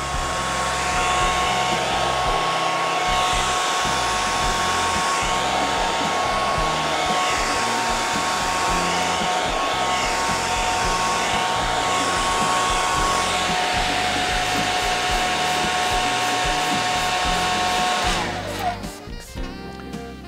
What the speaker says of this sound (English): A little blow dryer.